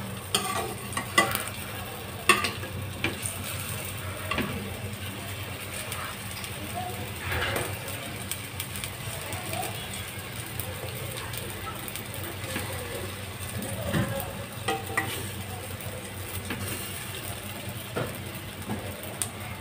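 Litti cooking on slow flame in a kadhai, a soft continuous sizzle with scattered light scrapes and clicks as the balls are turned.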